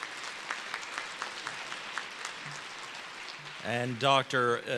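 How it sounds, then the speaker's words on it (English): A commencement audience gives scattered applause, sparse individual claps thinning out at a modest distance before a voice begins speaking over a public address. "Would you please offer a round of applause"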